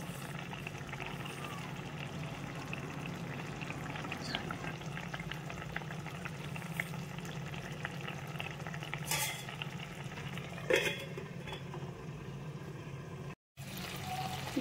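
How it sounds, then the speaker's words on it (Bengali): A covered pot of egg curry simmers on a low gas flame, giving a faint, steady bubbling and sizzling hiss with no talk. "দিয়ে আমি চাপা দিয়ে 10 মিনিটের জন্য লো ফ্লেমে হতে দেব"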